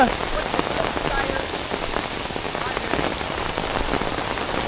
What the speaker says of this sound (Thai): ฝนตกหนัก ลมก็แรงทุกคน